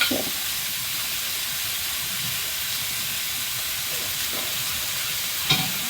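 Spring roll filling of vegetables, chestnuts and green onions stir-fried in a pan, giving a steady soft hiss and sizzle throughout with a few faint utensil scrapes and a brief clink near the end, no talking.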